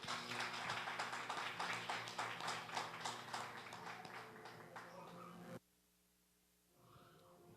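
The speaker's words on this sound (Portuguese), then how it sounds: "Vamos aplaudir os irmãos bem forte" A congregation at a church worship service claps hard and fast for about five seconds over sustained instrumental tones. The clapping then cuts off suddenly, leaving a quieter hum and faint sounds.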